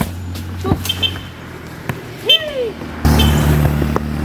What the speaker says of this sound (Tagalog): Kaya po sa mga motoristang dumadaan, pakibawasan na lang po ang takbo ng iyong sasakyan.